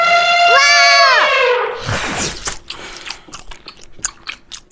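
Animal-shaped gummy candy bitten and chewed up close, with a string of short, sharp crunchy bites and chewing clicks after a loud, drawn-out voiced cry at the start.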